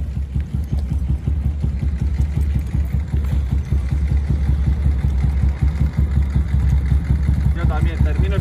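A BMW R100S boxer-twin motorcycle engine runs steadily during a ride around an industrial estate, a loud, close, continuous low pulsing throb with even rhythm throughout.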